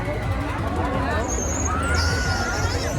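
A packed crowd at a village fair creates a dense, continuous babble of many overlapping voices, close and loud, with a few brief higher tones rising out of the din.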